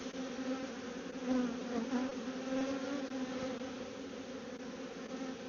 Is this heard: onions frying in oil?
no